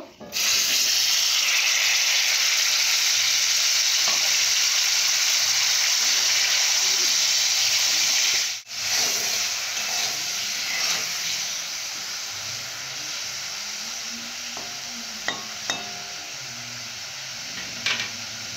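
Mango and dal tarka frying in a pan gives a loud, steady hiss and sizzle, breaking off briefly midway, then settling into softer bubbling with a few light clinks.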